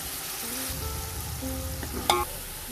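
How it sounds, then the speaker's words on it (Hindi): Masala tadka with powdered spices and a splash of water frying in a pan for vegetable pulao, a steady close sizzle with soft stirring scrapes and one brief sharper clink near the end. "इसको हम अच्छी तरह इसमें भून लेते हैं"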